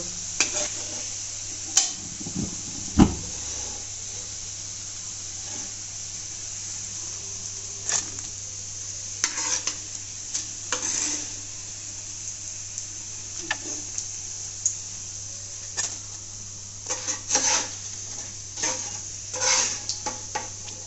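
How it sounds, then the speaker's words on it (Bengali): Cabbage pakoras fry in hot oil in a home kitchen, a soft steady sizzle broken by scattered clinks and scrapes of a utensil stirring the pan. "এখন বাকিগুলো এভাবে ভেজে নেব"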